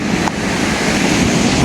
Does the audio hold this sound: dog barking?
no